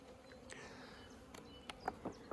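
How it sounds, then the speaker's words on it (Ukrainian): Bees buzz faintly as they fly around beehive frames nearby, with a few soft passing hums and small clicks against quiet outdoor ambience. "бджоли трошки налітають"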